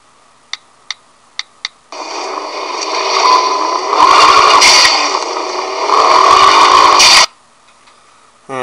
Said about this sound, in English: And as you can tell, it's the sound of a turbo for SRT4 shifting.